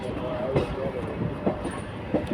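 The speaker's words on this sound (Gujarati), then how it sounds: "હવે બે ટ્રેન હવે ધીમે ધીમે સ્પીડ પકડશે જો એ તે પોરબંદર તરફ વહી ગઈ છે" A passenger train on the line toward Porbandar rolls steadily past, a continuous rumble with periodic rhythmic clacks of wheels over rail joints, fairly close and without talk.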